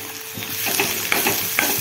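Onion frying with ginger, garlic and chili paste for a moth bean curry, a close steady sizzle with a few crisp spatula scrapes as it is stirred.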